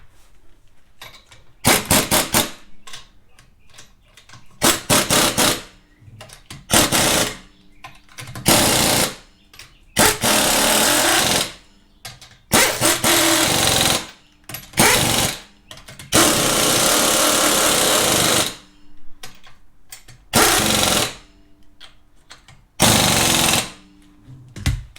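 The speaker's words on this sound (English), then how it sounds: "on this air impact wrench, I've got 3 different settings" An air impact wrench set to its lowest setting tightens lug nuts on a Lexus NX 300, firing in repeated loud hammering bursts of one to two seconds separated by short quiet gaps.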